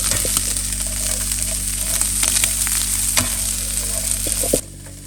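Bacon and shallots fry steadily in a cast iron pot, a loud, continuous close sizzle with occasional stirring clicks, cutting off abruptly near the end.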